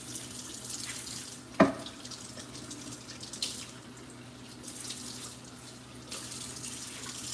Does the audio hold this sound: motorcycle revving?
no